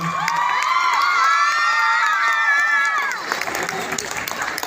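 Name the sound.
audience applause and cheering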